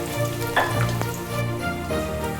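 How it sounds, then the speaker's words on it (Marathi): Onion tossed into hot whole garam masala for a Kolhapuri mutton curry sizzles and crackles steadily close by, with a few stirring knocks and a tonal background hum underneath. "गरम मसाले गरम झाल्यानंतर त्याच्यामध्ये आपण कांदा टाकणार आहे कांदा आपण चांगला परतून घेते चांगला लाल वगैरे"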